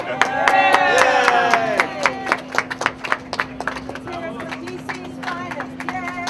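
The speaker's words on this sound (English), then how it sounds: "Round of applause." Applause breaks out at an outdoor protest rally in Washington DC, a run of sharp claps under a steady hum, with people talking and calling out over it and the clapping thinning toward the end.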